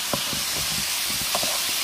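Water hits a hot pan of shrimp, sausage and potatoes, giving a loud, continuous steam hiss with faint crackling throughout.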